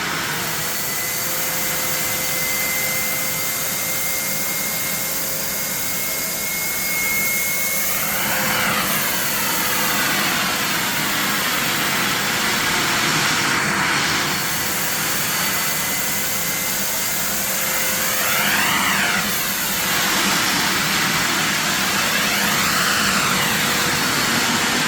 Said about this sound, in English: let's start it on turbo and see what it does